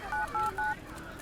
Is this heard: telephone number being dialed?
yes